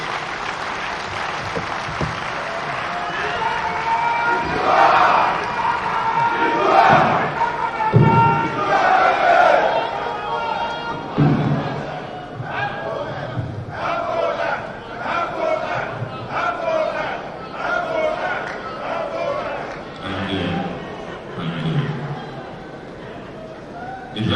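Conference audience at a live government summit in Enugu claps after a speech, sustained mixed applause and crowd noise swelling and thinning over the stretch, with some cheering and voices under it.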